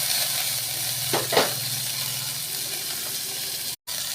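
Chopped ginger and crushed garlic sizzle in hot oil with dried red chillies, curry leaves and onion for a ponnanganni greens pachadi. The steady close hiss of frying carries a brief stirring scrape partway through.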